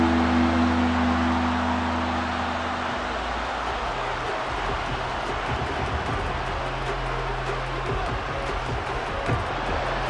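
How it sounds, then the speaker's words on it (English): Stadium crowd roar from a Madden 24 Ravens vs Cardinals football game, a loud, steady wash of noise lasting throughout, with a low droning hum in the first few seconds. "This crowd doing all they can."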